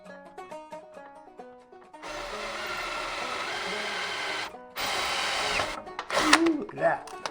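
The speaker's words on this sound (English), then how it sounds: "drill 2 holes" A power drill bores holes into a metal electric steering brace. The motor whirs steadily for a couple of seconds, stops briefly, then drills again in a second shorter burst, close and loud, with clattering afterward.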